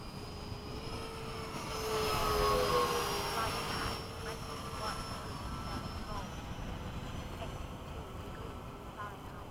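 An F-18 jet flying in formation with an A-10 produces a steady, broad jet engine roar that swells briefly, then holds as a continuous wash with faint whining tones above it.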